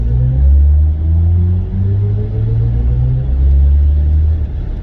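A 2022 BMW i4 M50 electric car accelerating hard on a highway, heard from inside as a loud, steady low rumble with synthetic rising tones sweeping upward through the pull, continuous and close with no talk.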